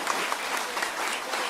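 An audience applauds at a Buddhist dharma talk in a temple, continuous dense clapping that stays at an even, moderate level with no speech over it.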